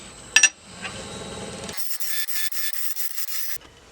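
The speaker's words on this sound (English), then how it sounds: "I'm scraping a little bit, cutting a little bit, scraping a little bit, cutting a little bit." Tool scraping and cutting a cherry wood bowl spinning on a lathe, a sharp rasp near the start and then a steady, bright hissing cut held for about two seconds before easing off.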